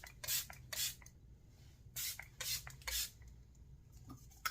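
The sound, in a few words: fine mist of makeup setting spray sprayed onto face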